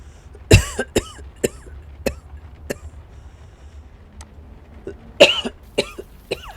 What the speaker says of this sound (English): I cannot get rid of this cough completely.